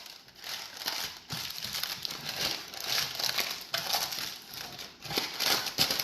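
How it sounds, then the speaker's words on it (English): Parchment paper crinkles and crackles as it is pressed down and folded into a loaf pan, a close, irregular series of crisp rustles coming in bursts over six seconds. "Then I'm going to take my parchment paper and I'm going to press it down evenly"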